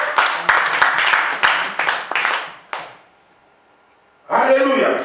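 Congregation in a church clapping in quick bursts for about three seconds, then a short quiet gap before loud clapping and cheering swell again.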